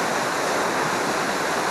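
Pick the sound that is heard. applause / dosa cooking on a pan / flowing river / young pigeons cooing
flowing river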